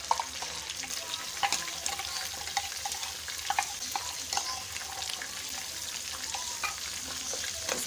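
Beef korma frying in a pan with garlic and ginger paste, a steady crackling sizzle with scattered sharper pops and occasional stirring scrapes throughout, no voices.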